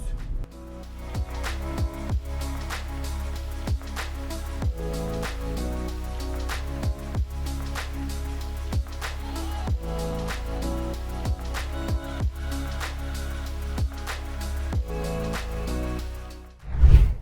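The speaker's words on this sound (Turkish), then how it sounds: "hava buz gibi, yağmur yağıyor" Steady rain patters on a surface at a rainy, ice-cold glamping site in Sapanca, a dense even hiss with scattered sharper drops, close and continuous and nobody speaking.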